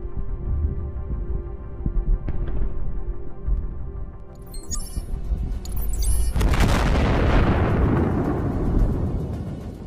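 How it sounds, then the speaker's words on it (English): A landmine detonates under a Russian T-90M tank in a minefield: a low rumble with a sharp crack, then a loud broadband blast roars and sustains to the end. "it suddenly enters a minefield. An explosion occurs and the tank is immediately rendered ineffective."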